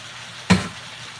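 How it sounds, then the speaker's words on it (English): Tomatoes drop into a hot cooking pot of homemade goulash with one sudden splash and sizzle burst that quickly fades back into a low background simmer. "I'm gonna take my tomatoes and I'm just gonna dump those right on in that pot back there"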